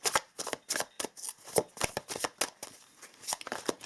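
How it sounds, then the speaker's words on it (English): A deck of tarot cards is shuffled by hand in quick, crisp riffling bursts, close and clear with short pauses between passes. "let us shuffle a little bit of these tarot cards"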